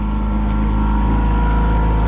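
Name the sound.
boat outboard engine running at speed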